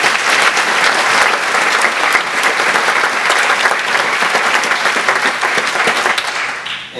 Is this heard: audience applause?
yes